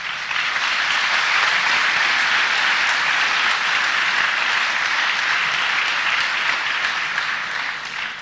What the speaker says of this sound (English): it should be me applauding you.